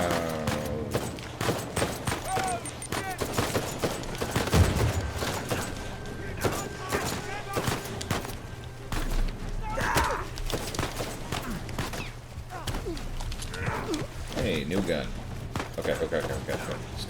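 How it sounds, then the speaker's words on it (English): Rapid gunfire bursts in the Uncharted 4: A Thief's End video game, steady volleys of shots running throughout under frequent talking and game sounds. "Okay, stop shooting for a second, please"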